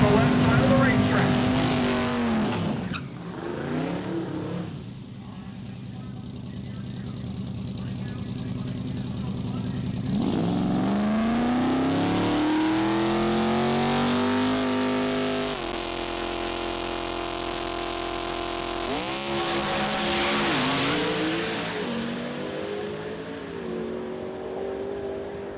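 Radial-class drag race cars launch at a Sick Week drag racing event, loud engines roaring and revving as they accelerate away down the track, with an announcer talking over parts of it.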